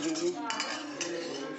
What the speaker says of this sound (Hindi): देखिए कॉर्न स्टार्च डाल के इसको अच्छे से मिक्स कर दीजिए।